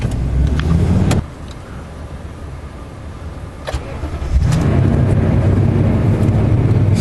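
Toyota Tundra pickup with slow cold engagement from a bad transmission idles after being put in gear, then the engine note rises and thickens as it finally takes up drive; steady close mechanical rumble throughout, no talk.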